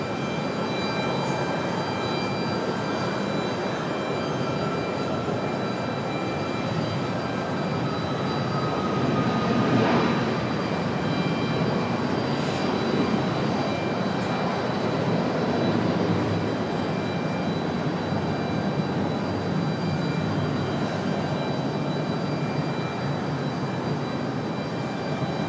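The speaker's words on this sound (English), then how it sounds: "All right, a United 737." A United Boeing 737 jet airliner roars continuously at an airport, its broad, steady engine rumble holding loud and near throughout.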